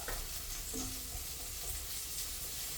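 Garlic fries in oil for pancit gisado, a steady close sizzle with stirring scrapes throughout and no talking.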